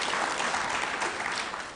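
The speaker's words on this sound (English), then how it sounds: "a round of applause for this sterling commitment." Audience applause at the opening of an intergovernmental session, a dense, fairly quiet burst of clapping that fades slightly toward the end, with no talking over it.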